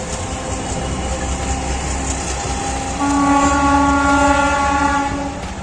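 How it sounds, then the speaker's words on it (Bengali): A train passing near the Bangladesh border, a continuous rolling rumble joined midway by a loud, sustained horn blast that holds for several seconds before fading slightly at the end. "এই যে দেখো ট্রেন যাচ্ছে"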